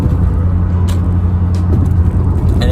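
Loud, steady road and engine drone inside an Audi B8.5 S4 while towing a trailer on the highway, with a low rumble and a few brief rattling clicks.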